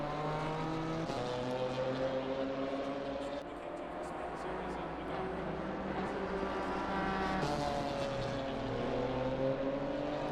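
A race car lapping Brands Hatch in Assetto Corsa Competizione on cold tyres straight out of the pits, its engine droning steadily and shifting pitch through gear changes, with commentary talking over it.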